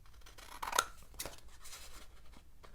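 Scissors snip through paper to cut out a strawberry sticker. There are a few close, crisp cuts, with the sharpest one near the start, alongside light paper rustling.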